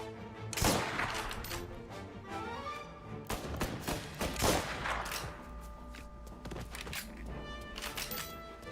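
Gunfire in Mafia: Definitive Edition, a dense exchange of loud gunshots and bursts over several seconds with thuds and echoing tails, set against a steady game soundscape.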